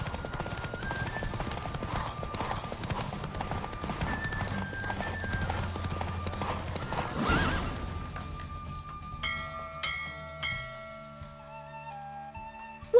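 Rapid hoofbeats of a horse in The Witcher 3: Wild Hunt gallop under a musical backdrop, then give way to clattering hits and scattered game-like tones as the pace breaks off.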